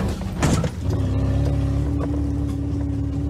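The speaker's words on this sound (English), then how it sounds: "Oh, dear. I think I've just lost the exhaust pipe." A Fiat car driving as its exhaust pipe comes loose, a brief rattling clatter near the start, then a steady droning engine hum with a constant low tone, fairly loud and close.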